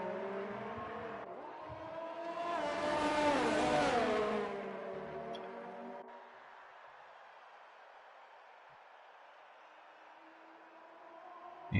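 F2 racing video game cars brake hard then accelerate, a loud burst of rising engine whine peaking midway before dropping to a low steady hum, with no talking.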